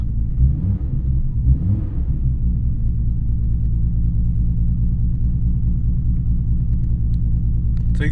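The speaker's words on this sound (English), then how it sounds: "We're going to drive the car around" A Nissan GT-R engine rumbles steadily from inside the car while driving, a deep continuous low drone with a slight rise near the start and then an even, sustained hum.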